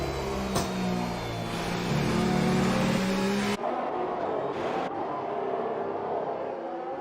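A Formula 1 race car screams at high revs in F1 2018 at the Chinese Grand Prix, its engine loud and near before cutting abruptly to a quieter, more distant whine with a brief gear-shift burst.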